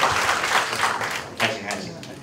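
An audience at a COSCUP 2018 open-source conference lightning talk session applauds briefly, a burst of scattered claps tapering off, with a voice speaking over it.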